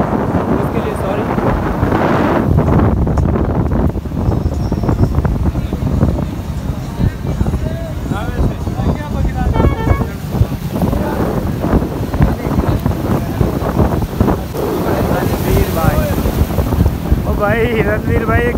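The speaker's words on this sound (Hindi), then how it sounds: "बीच में हवा बहुत चल रही है जिसकी वजह से साउंड में प्रॉब्लम हो सकता है" Heavy wind buffets the microphone on Clifton Beach, Karachi, with constant low rumbling, while voices talk underneath and water sounds drift in the background.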